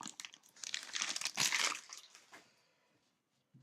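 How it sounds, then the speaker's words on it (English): A Donruss cello pack of basketball cards is torn open and crinkled, making a dense stretch of loud, close plastic crackling that fades out toward the end. "let's open one of the cellos from Donruss"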